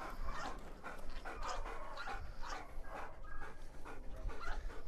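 Belgian Malinois dog panting steadily outdoors, with faint whimpers mixed into rhythmic breathing close by over about five seconds.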